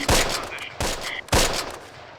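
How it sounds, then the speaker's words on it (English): Tank gunfire in the WW2 strategy video game Close Combat: three sharp, heavy shots spaced roughly half a second apart, each ringing out with a decaying tail, fairly quiet and without speech. "he looks like he's shooting this tank over here at this wall"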